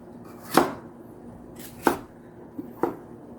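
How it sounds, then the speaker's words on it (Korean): A knife cuts vegetables for a tomato soup sauce on a board, giving three distinct, fairly close chops spaced more than a second apart, with soft handling noise between. "이렇게 소스에 들어갈 채소들을 썰어 줍니다"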